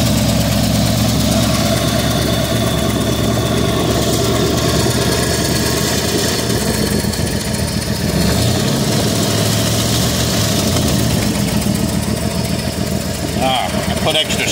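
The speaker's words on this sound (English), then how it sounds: "Give it a little rev." A 1966 Ford Thunderbird V8 runs loud and close, idling steadily with a brief rise and fall of revs midway, under a voice talking.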